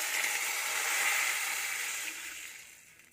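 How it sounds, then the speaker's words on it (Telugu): Milk being poured into a pan during cooking, a steady close hissing pour that holds for a few seconds and then tapers off as the stream thins. "ఇప్పుడు పాలు పోసాను"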